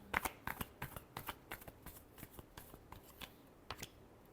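Tarot cards being shuffled by hand, a steady run of crisp riffling flicks and soft slaps, close and fairly quiet, with no voices over it.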